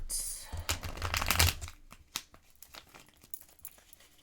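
Tarot cards being shuffled and drawn at a reading, with a dense burst of crisp riffling and crinkling up close, then sparser light taps and flicks as cards are laid out, and a voice faintly present.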